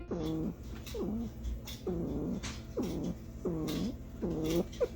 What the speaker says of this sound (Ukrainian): Зазвичай вони видають тихі, схожі на муркотіння звуки, коли спілкуються з партнером або дитинчатами.